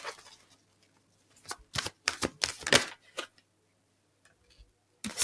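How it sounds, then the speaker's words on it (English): A deck of oracle cards is shuffled by hand in quick bursts of crisp clicking and riffling, loud and close, separated by brief silent pauses, with no voice. "3 more shuffles."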